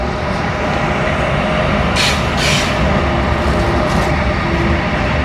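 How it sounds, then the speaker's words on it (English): A train passes nearby with a loud, continuous rumble and roar, and two brief hissing bursts rise over it midway, with no voices. "we are talking about the train that is just coming there"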